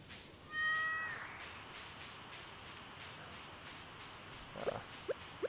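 A cat meows in the Stardew Valley video game, one drawn-out electronic meow near the start, followed by a few short, soft game sound blips near the end over a quiet background.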